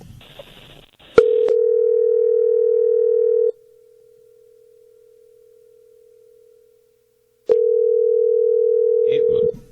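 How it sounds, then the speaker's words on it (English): Ringing tone on a line calling a home phone: two long, steady electronic rings, each about two seconds, separated by a pause, loud and clear with brief talk before the first ring and at the end. "And we're calling his house."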